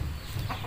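A chicken gives a short, soft cluck close by over a low background rumble.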